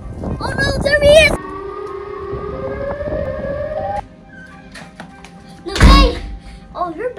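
A loud wailing siren holds long rising and falling tones, framed by bursts of noisy commotion and a voice near the start and end.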